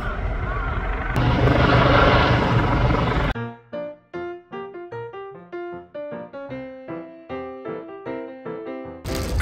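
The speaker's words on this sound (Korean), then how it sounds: "헬기도 떴네요." A helicopter circles over a city in Japan amid police, ambulances and fire trucks, a loud broadband rotor roar for about three seconds before it cuts to plucked music notes.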